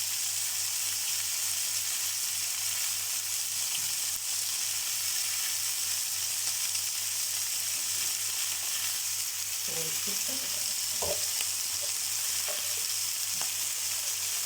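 Chicken sautéing in a pan with mastic and cardamom, sprinkled with meat spices, giving a steady loud sizzle throughout, with a few soft clinks and stirring sounds near the end.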